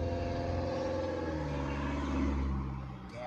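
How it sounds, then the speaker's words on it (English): Car engines rumble outdoors in a steady, moderately close drone that swells slightly as one revs, then eases off at the end. "There's cars out here. And I bet they think that's cool how that sounds."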